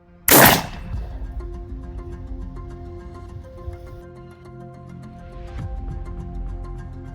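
A Hatsan Bulltac shotgun fires a single loud, sharp shot of regular birdshot near the start, followed by a long fading ring and faint background rumble with a small clatter later on.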